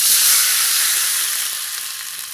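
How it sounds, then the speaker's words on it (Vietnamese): Sauce mixture poured into a pan of golden fried garlic for a vegetarian sweet-and-sour dish, a loud close sizzle and hiss that holds steady and then slowly eases off. "Tỏi mình mà nó đã vàng thì mình sẽ cho cái phần hỗn hợp hồi nãy mình quậy vô đây nè các bạn."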